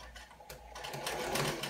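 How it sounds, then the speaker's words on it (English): A sewing machine stitching a seam on a pair of pants, running steadily for a short burst, close by but fairly quiet, with no talking. "There's an art to getting a really nice straight line when you're sewing"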